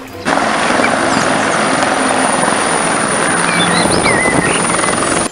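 Loud, steady rotor drone from a toy military helicopter, close and continuous, with a few high whines drifting over it; no talking.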